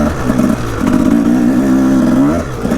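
A Husaberg TE 300 two-stroke dirt bike ridden through snow, its engine loud and close, droning and rising in pitch with throttle, then easing off near the end.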